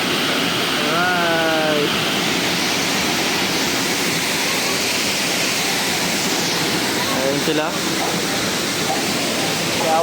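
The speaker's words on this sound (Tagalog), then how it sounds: "Tignan kung gano'n kasarap ang falls." Waterfall pours in a constant loud roar close by, a dense unbroken rush, with people calling out and talking over it.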